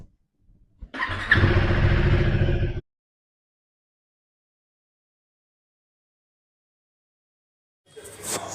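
A motorbike engine starts and rides off, loud and close for about two seconds before cutting off abruptly, followed by silence and a brief return of engine sound at the end.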